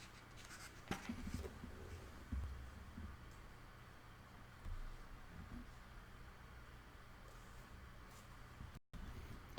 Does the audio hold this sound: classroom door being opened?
no